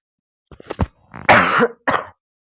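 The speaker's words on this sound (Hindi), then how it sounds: "सॉरी बच्चों में थोड़ा खांसी हो रखा है इसलिए" A single person coughs close up, a few short rough hacks followed by a longer harsh cough and one more brief one.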